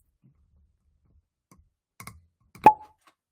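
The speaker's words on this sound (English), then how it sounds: "I'm gonna give that top 5 cork pop for the year" A cork pops sharply out of a Michter's Small Batch whiskey bottle after a few faint clicks of the top being turned, with a single crisp, close plop in an otherwise quiet room.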